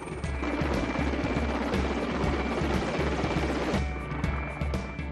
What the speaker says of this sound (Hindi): जम्मू हवाई अड्डे से 2 हेलीकॉप्टर माता वैष्णो देवी धाम के पंछी हेलीपैड पर उतरे